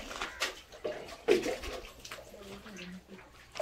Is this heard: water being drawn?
yes